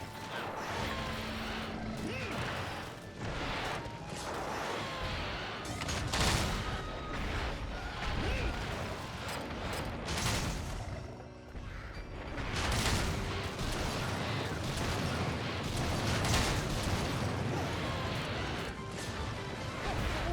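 Explosive blasts strike a monster during a Monster Hunter 3 Ultimate hunt, dense repeated booms and crashing impacts layered over busy game sound, loud and continuous with short lulls.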